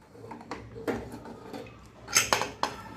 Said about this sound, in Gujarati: અને હવે આપણે કુકર ખોલીશું.